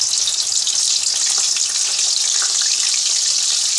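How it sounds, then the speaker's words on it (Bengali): Lote fish frying in hot oil, a loud, steady hissing sizzle that stays constant and close throughout, with no voices. "দেখো তেল গরম হয়ে গেছে এবার সব মাছগুলো পরপর দিয়ে দেবো আর মাছটা রান্না করছে"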